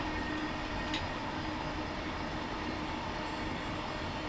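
A Class 707 electric train passing on the South West Main Line in Train Simulator Classic, a steady, loud rolling rumble with constant broadband noise and one brief bright click near the start.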